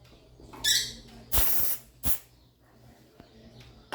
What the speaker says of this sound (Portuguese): Estou utilizando o spray, tá? Para limpeza.